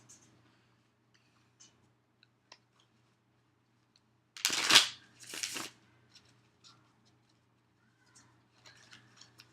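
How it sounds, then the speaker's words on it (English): Osho tarot cards shuffled and one card drawn from the deck, a short burst of soft papery riffling and flicking followed by a quieter second rustle, with only faint small handling ticks around it in a quiet room. "I need to draw an Osho card."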